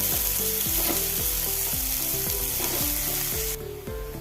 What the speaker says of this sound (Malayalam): നാല് വലിയ ഉള്ളി നൈസായി അരിഞ്ഞത് വെച്ച് കൊടുത്ത് ഞാൻ ഇളക്കി കൊടുക്കാം